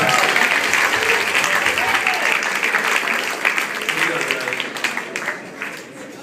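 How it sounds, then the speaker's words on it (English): A live studio audience applauds for returning co-stars at a late-night mentalism show, dense clapping that starts full and gradually thins and fades. "give them a big round of applause"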